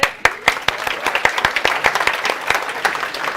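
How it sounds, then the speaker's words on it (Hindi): Students in a CA Inter accounting lecture clap together, a loud, dense run of sharp, overlapping hand claps that keeps a steady, slightly ragged rhythm for a few seconds. "एक बार ताली बजाओ"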